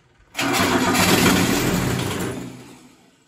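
Four-wheeler ATV engine given more throttle, rising suddenly into a loud, close mechanical roar that holds for about a second before gradually fading away.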